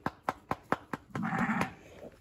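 A sheep bleats in a quick series of sharp, close calls, about six short bursts, followed by a longer, wavering bleat; no talk is heard.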